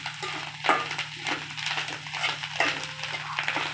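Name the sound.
stirring fish egg fry with spices in a pan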